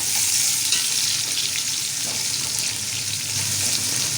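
Onions frying in a pan for chana pulao over a raised flame, a dense, loud, continuous sizzle with hissing crackle and no breaks.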